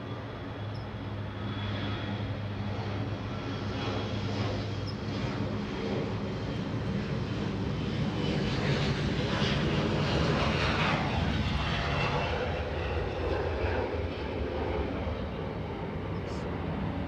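A jet airliner takes off from runway 24 Left at Los Angeles International Airport, its engine roar broad and steady for the whole stretch, swelling slightly in the middle as it passes, with faint radio chatter underneath.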